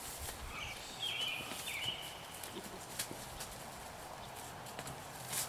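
A Kentucky Mountain Saddle Horse colt runs off, its hooves clip-clopping in a quick, uneven patter at moderate distance over steady outdoor background noise, with no talk.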